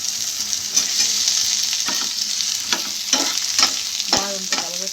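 Eggplant pieces fry in hot oil in a pan with a steady loud sizzle, while a spoon stirs them in a few sharp scraping strokes. No voices are heard.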